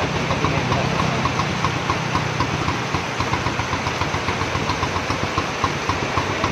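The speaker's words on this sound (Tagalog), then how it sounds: "Paandar na rin yung Honda Reveal 250." A Honda Rebel 250 motorcycle, revived after failing to start, idles steadily at close range with a rapid, even ticking pulse and constant engine rumble, without pauses.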